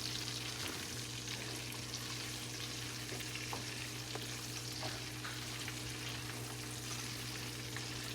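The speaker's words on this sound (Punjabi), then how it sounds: "ਥੋੜਾ ਜਿਹਾ ਆਪਾਂ ਨੂੰ ਫਰਾਈ ਕਰਨਾ ਹੈ" Dry spices, salt, chili and turmeric fry in hot oil for a forest bitter gourd pickle, making a steady, even sizzle throughout with faint stirring and no voices.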